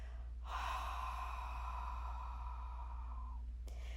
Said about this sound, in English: fog a mirror with your exhale